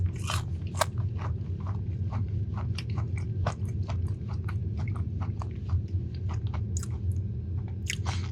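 Crunchy chewing of plain Raising Cane's french fries, close and steady, with repeated sharp bites and crackles running throughout over a faint low hum.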